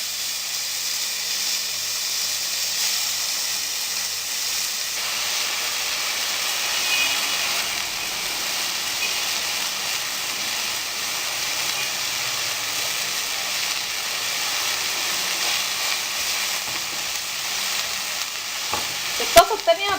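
Meat frying in a hot pan, a steady close sizzle and hiss with faint stirring, ending in a couple of sharp clatters.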